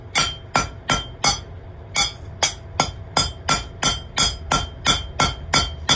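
A ball peen hammer cold-peens mild steel while forging knife tongs: about fifteen sharp, ringing metallic strikes land in a steady, even rhythm, loud and close with nothing else heard.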